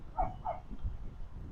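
A dog barks at geese somewhere off in the distance, two faint quick barks followed by a softer muffled sound under outdoor ambience.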